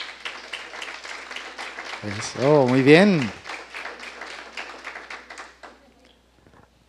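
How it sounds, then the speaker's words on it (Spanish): Congregation clapping during a Christian church service in honour of the fathers present, a brisk patter of hands under a voice that swells briefly, then thins out and fades to near silence. "Un aplauso para ellos."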